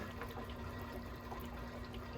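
A pump draws old engine oil out of an engine into a container during an oil change, giving a quiet, continuous liquid gurgle and bubbling over a steady low hum.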